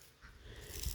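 A puppy that seems unwell gives a faint, brief whimper with wheezy breathing, quiet and close, with no talking.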